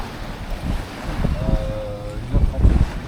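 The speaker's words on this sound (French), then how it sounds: "Là on a un vent de 15 nœuds et on avance au près." Wind and waves aboard a sailboat sailing close-hauled at sea in a 15-knot wind, a loud blustery rush with surging water swells and a brief creak partway, close to the microphone, with no talk.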